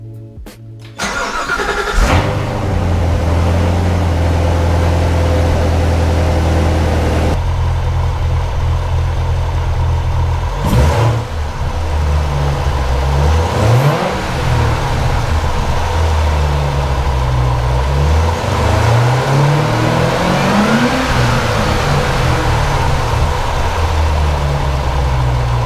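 A Corvette Z06 engine cranks and fires up loudly, settles into a deep idle, then revs up and down several times with rising and falling sweeps, close and powerful throughout.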